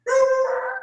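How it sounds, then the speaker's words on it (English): A dog gives one short tonal whine or whimper that lasts under a second, clear and fairly close, with nothing else heard. "I apologize for the dogs in the background."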